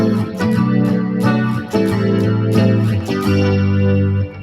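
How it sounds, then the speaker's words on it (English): Electric guitar strumming chords with a wobbling vibrato, shimmering chorus and reverb, played alone and steady. "I added a lot of vibrato and chorus and reverb, so this is what it's sounding like."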